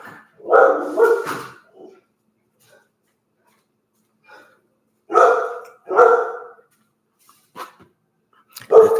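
A female dog barks indoors in short bursts, a couple of sharp barks, then a pause, then another cluster of barks, loud and close against otherwise quiet surroundings.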